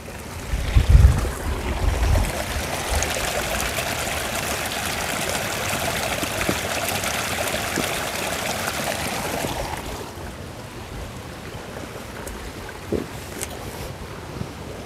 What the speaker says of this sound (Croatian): Evo tu se nalazi potok.